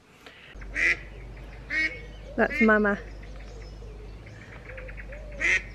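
A hungry duck quacks several times in short, loud bursts close by, with a low steady hum underneath and a person talking briefly between the calls.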